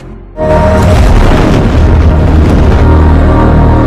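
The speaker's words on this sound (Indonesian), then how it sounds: "mereka mengendarai mobil langsung meledak" A car explodes in a movie scene with a sudden, heavy boom after a brief lull, followed by a loud, sustained rumbling roar that fills the rest of the moment.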